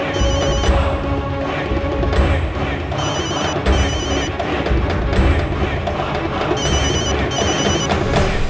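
A telephone rings in repeated double bursts of bright, trilling bell tones, loud and close, over a busy background of other sound.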